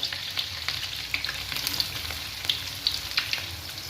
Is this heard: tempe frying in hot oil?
yes